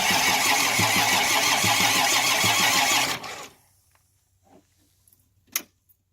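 A Kubota tractor engine is cranked with loud, rhythmic chugging pulses for about three seconds, then cuts off abruptly into near silence broken by a few faint knocks.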